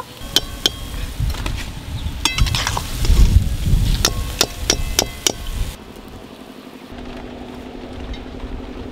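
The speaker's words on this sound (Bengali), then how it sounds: "এই বড়াগুলো লাল লাল করে ভেজে নিয়েছি" Palm fruit fritters deep-frying in a pan of hot oil, a steady close sizzle broken by sharp metallic clinks of a utensil, with the bubbling dropping off to a quieter hiss near the end.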